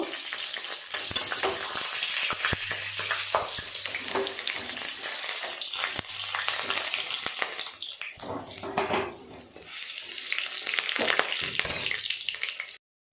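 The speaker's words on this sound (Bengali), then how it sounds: "যতগুলো বড়া হয় এইভাবে ভেজে নেবে" Ground-lentil fritters mixed with onion, coriander leaves and green chili fry in hot oil, giving a strong, bubbling sizzle with occasional scrapes of turning, briefly dipping before a final stop.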